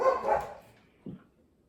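A short burst of puppy barking and yipping rings out up close, followed by a brief softer yip and then quiet, in a home kitchen.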